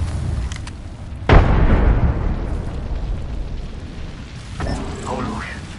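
Frag grenade blast in Apex Legends: a single sudden boom with a rumbling decay over ongoing game noise, followed later by a faint voice.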